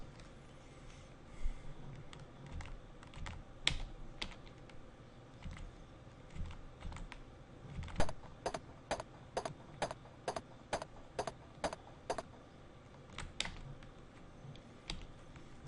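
Keys tapped to enter text in the retro computer game Mean Streets, a soft irregular clatter early on, then a steady run of evenly spaced, crisp keystrokes, fairly close and alone without talk.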